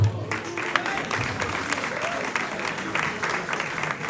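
An audience applauds Clara Simet, an architect, at an inauguration event, with steady dense clapping from a crowd lasting throughout.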